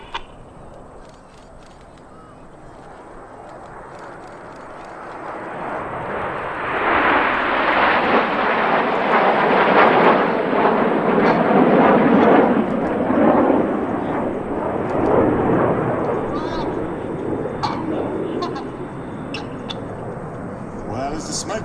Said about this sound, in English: the aircraft about to bank around to the right